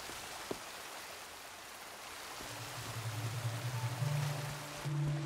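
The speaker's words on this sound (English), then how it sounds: "Yeah, I can hear a waterfall" A steady wash of rushing water from a waterfall in the video game Sea of Thieves, with a low droning hum and tones rising partway through.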